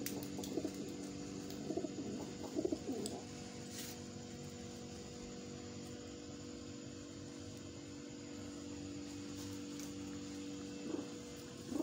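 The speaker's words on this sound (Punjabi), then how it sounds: "ਇਹ ਵੀ ਲੱਖਾਂ ਕਬੂਤਰ ਹੈ।" Indian pigeons for sale in Sheikhupura, cooing softly in a quiet setting, with a few scattered low coos and faint background noise and no voices.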